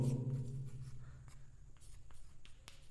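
A pen writing numbers in a math notebook, soft scratchy strokes close by, quiet and continuous with faint breathy voice traces underneath.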